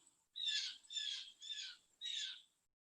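Four loud, harsh squawking calls from birds outdoors, in a quick run with short gaps, close and clear against a quiet background.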